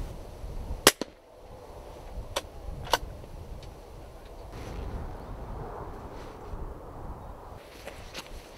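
Rimfire rifle shots ring out during rabbit control in open country, three or four sharp cracks near the start, the first the loudest, then a few fainter ticks over quiet background noise with no talk.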